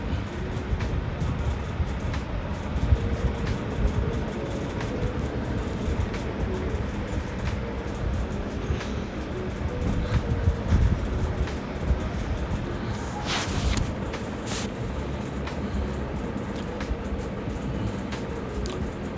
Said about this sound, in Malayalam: ആ മേലെ കൂടെ പോകണതാണ് മെട്രോ ദുബായിലെ മെട്രോ